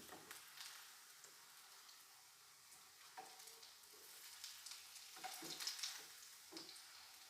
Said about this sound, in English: fry them till they are golden brown in color